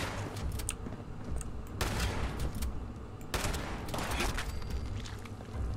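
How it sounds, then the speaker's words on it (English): Explosions and gunfire from the video game Fallout 76 rattle continuously with dense bursts and booms, heavier blasts surging near 2 and 3.5 seconds amid constant loud combat noise. "Everything is exploding around you."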